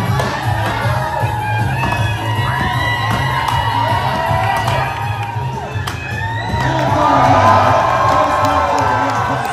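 Loud crowd at a lumberjack show cheers, shouts and whoops without a break, with children's yells among it. The roar swells toward the end.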